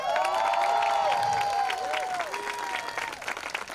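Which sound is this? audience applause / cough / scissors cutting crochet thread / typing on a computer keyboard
audience applause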